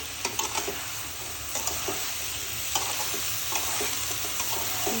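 Okra sizzles in hot oil with spices for a prawn and okra curry, a steady broadband frying hiss broken by scattered clicks and scrapes of a spoon stirring, close and continuous with no voices.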